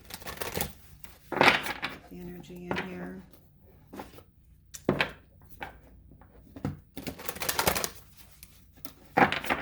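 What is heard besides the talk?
shuffling tarot cards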